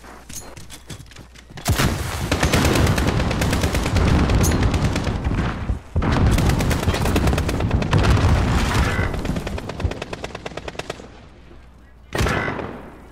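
Shooter video game gunfire bursting out in dense, loud rapid volleys of automatic shots and booms, broken by brief pauses, with a player's voice faintly in the background.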